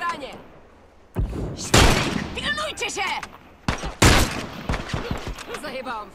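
Gunfire in The Last of Us multiplayer rings out in loud, sharp bursts, with a few separate volleys over several seconds under excited voices of players talking.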